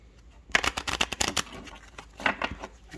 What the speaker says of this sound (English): So we're going to shuffle this again.